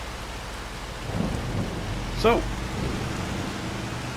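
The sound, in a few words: rain in the video game Farming Simulator 25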